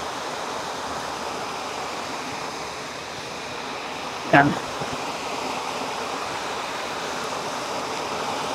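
Talon ng Leon waterfall in Barangay Lucsuhin, Silang, Cavite, gives a constant broadband rush of falling water at an even level, with a single short spoken word about halfway through.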